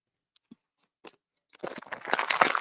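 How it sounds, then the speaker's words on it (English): A small plastic water bottle is crushed by hand in a workshop, starting with a few faint isolated clicks before a loud, dense crackling crunch of plastic fills the last second. "let me crunch that little water bottle down"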